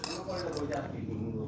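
Brief clinks of a spoon and steel dishes while hot fenugreek-leaf dal curry is served with rice, light metallic taps under a voice.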